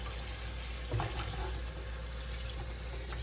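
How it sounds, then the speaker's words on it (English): Tap water runs steadily over mushrooms being rinsed at a kitchen sink, a constant close splashing hiss with a brief louder spatter near the one-second mark. "Now he's rinsing off the mushrooms"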